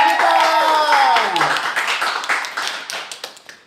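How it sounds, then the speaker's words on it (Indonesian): Audience applause for two contestants at a youth Bible quiz grand final. It begins under a fading musical tone and voice, then thins into scattered, separate claps. "berikan dulu tepuk tangan yang meriah bagi kedua peserta kita"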